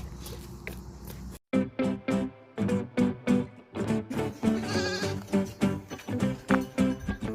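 Lambs bleat over and over in a busy chorus of short, wavering cries, close by and fairly loud, with scarcely a pause.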